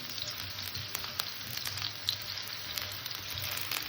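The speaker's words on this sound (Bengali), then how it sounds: "একসাথে সবজিগুলো ভেজে কষে নেব" Vegetables, including potatoes and cauliflower, frying together in a pan, a continuous fizzing sizzle at moderate loudness with a few faint clicks, and no talk.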